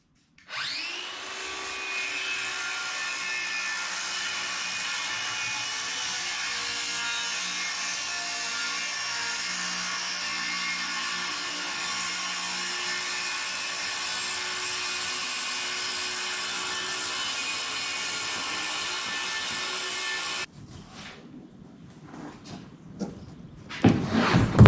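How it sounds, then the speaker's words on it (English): A router trims the plywood overhang along the roof edge of a teardrop camper, a steady loud high whine running continuously for about twenty seconds before cutting off into quieter handling noises. "Then we can just router it off."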